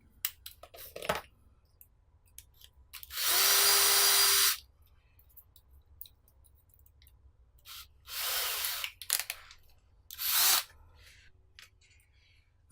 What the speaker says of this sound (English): I don't need to use the massive drill, but you know, why not?